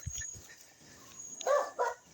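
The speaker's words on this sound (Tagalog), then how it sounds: "Ingay pa ng aso dito." A dog barks a couple of times near a roadside spot, two short sharp yaps following a few faint low thumps, heard alone without talk.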